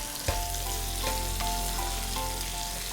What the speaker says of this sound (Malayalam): ആഹാ, തിളച്ച് മറിയുന്നുണ്ട്.